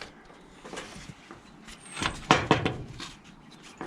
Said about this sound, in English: So I will just close this door.